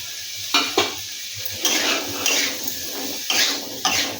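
Garlic, ginger and chili fry in a pan with a crackling sizzle, broken by several sharp clinks and scrapes of a utensil stirring against the metal, close and with no voices.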